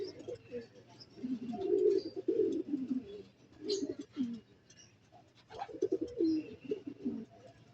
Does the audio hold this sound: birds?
yes